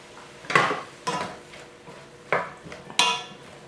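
Garlic cloves stir-fried in a hot pan over fairly high heat for vegan moo goo gai pan, four distinct metallic clanks of a utensil against the pan with a soft sizzle beneath.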